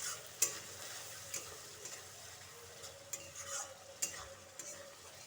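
Spice paste of turmeric, salt and chili powder being stir-fried in oil for a fish-roe curry, with a soft steady sizzle and occasional light scrapes and taps of a spoon against the pan, fairly quiet and without talk.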